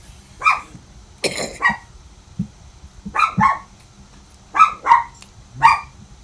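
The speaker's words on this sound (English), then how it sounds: "I was just starting to enjoy that dog barking." A dog barks in the distance outdoors near a hangar, giving short single and paired woofs with gaps between them and a few higher yips among them, heard against a quiet background.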